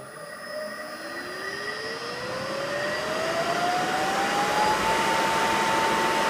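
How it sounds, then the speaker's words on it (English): A four-pole electric motor on a single-phase VFD ramps up to twice its rated speed, its steady whine climbing in pitch over a constant loud mechanical drone with no talking. "This is a four-pole motor. So we're going to run it at twice speed, which is 120."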